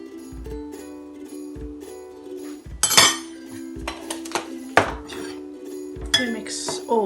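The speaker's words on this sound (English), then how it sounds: "We mix all the dry ingredients thoroughly." Dry ingredients for a microwave chocolate mousse, including salt and baking powder, are mixed in a bowl, with a steady run of spoon or whisk taps and scrapes against the bowl and a few louder clinks.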